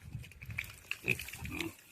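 A farm pig grunts and snuffles nearby in a short run of low, rough bursts with brief pauses between, with faint higher outdoor sounds mixed in.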